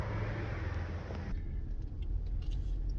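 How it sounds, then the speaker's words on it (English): A BMW with its auto start-stop function coded off drives through a residential neighborhood, giving a low, soft, steady engine and road rumble heard from inside the car. "now I'm driving through my neighborhood real quick"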